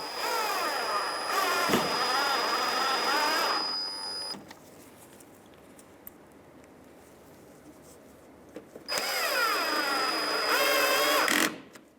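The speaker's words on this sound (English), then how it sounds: "now we can put in our two Phillips screws" Phillips screws driven into plastic tabs on a 2015-2019 Hyundai Sonata fender with a power driver: two steady whirring runs of a few seconds each, separated by a quiet pause, close and fairly loud.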